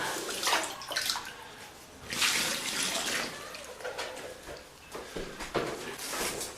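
Water splashes and pours unevenly in bursts into a container of plaster mix, with sloshing and gurgling and no talking.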